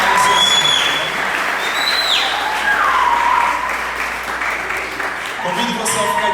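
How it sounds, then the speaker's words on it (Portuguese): Applause from a church youth gathering, a steady broadband clatter of clapping filling the whole stretch, with whistle-like tones and some voices mixed in. "salva de palmas para eles"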